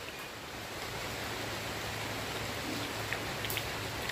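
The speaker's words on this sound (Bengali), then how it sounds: "বাইরে হচ্ছে অঝরে বৃষ্টি।" Heavy rain falls outside as a steady, dense hiss of drops, even and unbroken, with a few faint knocks near the end and no talking.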